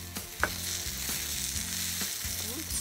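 Sausages sizzle steadily in a pan over a wood-fired stick stove outdoors in the woods, a dense, even crackle close up with a few sharper pops and faint scraping of stirring.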